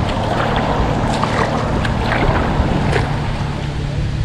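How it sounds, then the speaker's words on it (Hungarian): Motorboats on Lake Tisza, a steady low engine drone with water and wind noise, continuous and fairly loud throughout with no talk. "Hogy bírjátok ezt a sok csónakot? Sok motorost?"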